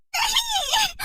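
A woman lets out a short, high-pitched scream of shock on seeing her face in the mirror, close and loud, wavering for about a second.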